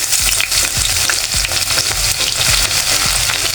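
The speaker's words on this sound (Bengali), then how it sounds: "আমি এখন পেঁয়াজ দিয়ে দেব" Onion fries loudly in hot oil with a bay leaf, producing a constant close sizzle broken by soft rhythmic stirring thumps.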